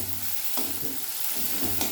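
Spices for a Bengali katla fish kalia stirred and fried in a pan over high heat, a steady sizzle with scraping stir strokes around the middle and near the end, close and alone without talk.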